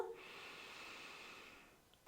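A single deep inhale, taken through the nose during a hypopressive pelvic floor exercise, draws in as a soft, steady breath lasting about two seconds, close and quiet.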